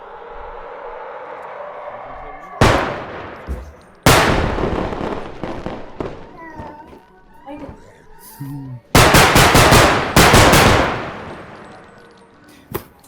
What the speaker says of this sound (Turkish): silah bak pat pat